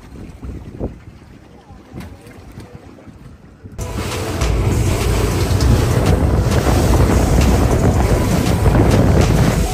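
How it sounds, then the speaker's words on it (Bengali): Boat running on the open sea off Punta Cana, with wind buffeting the microphone and waves slapping the hull; the first few seconds are quieter before a loud, steady engine and wind roar takes over to the end. "আমরা একটা বোট করে আসছি, এখন আমরা মেইন বোটে উঠবো প্যারাসেলিং এর জন্য।"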